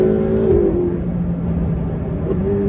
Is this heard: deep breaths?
no